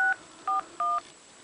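Three short telephone keypad tones dial 611 for AT&T on a phone, crisp beeps in a quick uneven rhythm, each lasting a fraction of a second over a faint steady hiss, close and alone.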